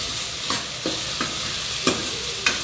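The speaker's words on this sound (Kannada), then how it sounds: "ಚೆನ್ನಾಗಿ ಬೇಯ್ದಮೇಲೆ ಟೊಮೊಟೊ ಹಾಕ್ಕೊಳ್ಳಿ. ಚೆನ್ನಾಗಿ ಫ್ರೈ ಮಾಡಿ." Carrots, other vegetables and tomato fry in a pan for upma, a steady bright sizzle running throughout with a few sharp stirring scrapes at irregular moments, close and unaccompanied by speech.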